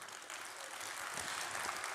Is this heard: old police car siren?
no